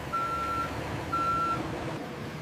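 Two steady reversing beeps from a truck delivering used plastic bottles to a collection point, each tone lasting about half a second, heard over a constant low engine rumble and ambient noise.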